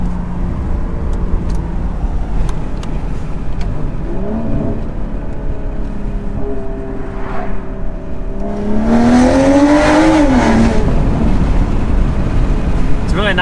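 A BMW M340i with an aftermarket exhaust and downpipe revs up and down a few times nearby, then a louder, rising exhaust roar swells and holds.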